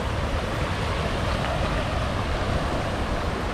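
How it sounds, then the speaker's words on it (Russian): Rushing water of a river swollen after bad weather, a steady broadband roar that holds constant and loud throughout with no voices, close by. "И вот так вот шумит вода"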